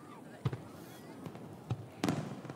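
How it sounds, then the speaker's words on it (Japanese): Fireworks launching into the summer night sky at the Abe River fireworks festival in Shizuoka City: several sharp, distant bangs and pops spaced irregularly over a low crowd murmur. "それでも夏の夜空に花火が打ち上がると"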